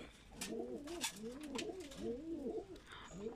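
A Kaldom pigeon coos close by in repeated throaty, warbling phrases, about four rising-and-falling calls in a few seconds, with faint clicks and rustles around it.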